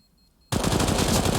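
Sudden burst of sustained automatic rifle spray in Counter-Strike, at IEM Katowice 2023 on the Anubis map, loud and continuous after a half-second of near silence, with rapid overlapping shots and no talk.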